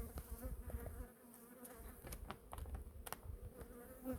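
Many honey bees hum together in a soft, steady drone, with faint crackles and shuffling sounds from within the hive.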